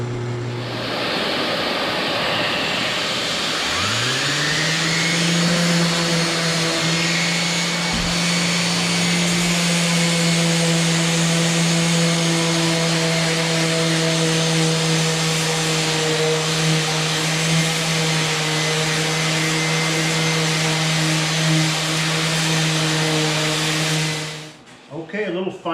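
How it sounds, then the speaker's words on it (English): A power drill with a 3/8 spade bit bores into wood, whining steadily for about twenty seconds, a sustained motor tone with a bright upper hiss, then cuts off near the end. "Let's hope this 3/8 spade bit is going to work good for me."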